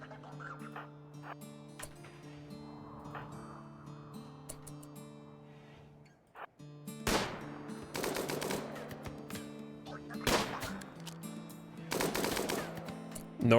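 Rifle gunfire in RimWorld, rapid bursts of game shots over a steady musical drone, starting sparse and turning into dense, loud volleys in the second half.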